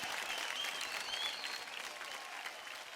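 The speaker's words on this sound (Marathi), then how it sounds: "जोरदार टाळ्या होऊन जाऊ द्या तिघांसाठी" A studio audience at a televised dance competition claps steadily for three dancers, a dense applause of many hands that holds strong before easing slightly toward the end.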